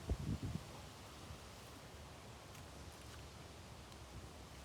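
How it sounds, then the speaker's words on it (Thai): Strong wind gusts through leaves outdoors beside a rice field during harvest, making a steady, soft broadband rustle that holds throughout with a slightly louder burst at the start and no talking. "โอ้ยลมแรงดีค่ะ"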